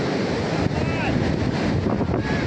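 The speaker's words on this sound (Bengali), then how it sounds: "অসাধারণ হাওয়া বইছে" Surf pounds and hisses steadily on Puri beach at night while strong wind buffets the microphone, a loud, unbroken roar with no pauses.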